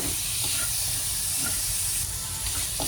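Tomatoes fry for a prawn gravy in a hot pan, producing a dense, steady hiss and sizzle with faint stirring movements underneath, close and constant with no voices.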